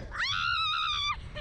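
A woman lets out one loud, sustained scream as a fairground ride drops, with a steady pitch lasting about a second, heard close up over a rumble of background noise.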